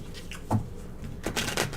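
Tarot cards are shuffled in quick riffling bursts, a couple of close, crisp rustling passes with a brief pause between them and no one talking.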